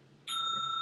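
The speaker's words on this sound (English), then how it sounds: "The bell going on." A bell rings once with a bright sustained metallic tone that lingers steadily, fairly faint against quiet room noise.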